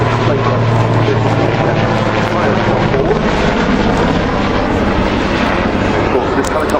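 A loud, continuous helicopter engine roar at an air show at RAF Fairford fills the whole stretch, steady and close, with a low droning hum underneath.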